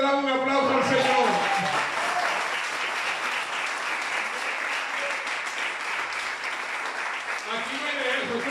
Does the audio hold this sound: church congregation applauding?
yes